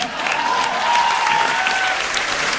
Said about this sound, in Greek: Και τώρα μπορείτε να χειροκροτήσετε.